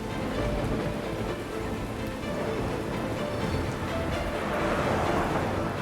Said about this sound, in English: it started to downpour